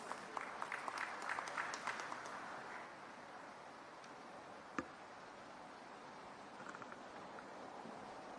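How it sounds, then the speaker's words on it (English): An audience at the opening session of an industry exhibition and conference gives applause for the Chief Minister of Gujarat, faint, distant clapping that thins out after a few seconds into scattered claps and room noise. "Let's all together welcome him with a thunderous round of applause."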